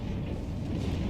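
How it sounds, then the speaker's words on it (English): A dense, low rumbling roar of video game explosions in Project Nomads runs without pause for about a second, booming and chaotic with no voices. "you can see tons of explosions."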